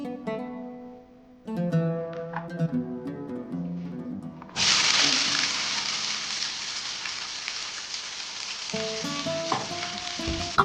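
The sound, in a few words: oil frying and sizzling in a pan with onion and tomato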